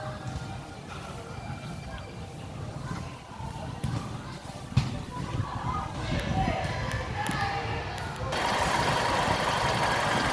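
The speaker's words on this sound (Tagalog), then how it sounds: "naka-start na yung makina natin" A vehicle engine starts and settles into a steady idle with a constant rumble, getting louder toward the end, with some background noise and knocks.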